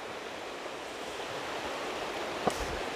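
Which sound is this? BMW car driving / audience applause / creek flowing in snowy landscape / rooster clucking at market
creek flowing in snowy landscape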